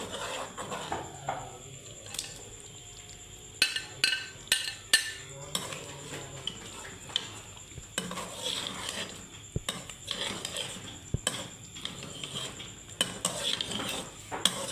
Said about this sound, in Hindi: अब हम इसको 2 से 3 मिनट तक इसको भून लेंगे